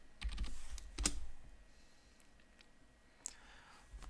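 Password typed on a Linux computer keyboard, close, quick clusters of key clicks followed by quieter scattered taps, no speech.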